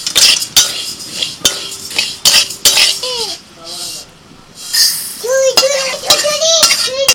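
A spoon scrapes and clinks against a dry kadai while moong dal is dry-roasted, giving sharp repeated metallic taps at an irregular rhythm, close and loud, with someone talking over much of it.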